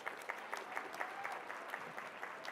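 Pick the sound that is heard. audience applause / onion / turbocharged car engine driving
audience applause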